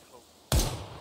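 A single sharp gunshot from the tactical shooter game Ground Branch bursts out suddenly, loud and close, with a heavy low thump that decays over about half a second.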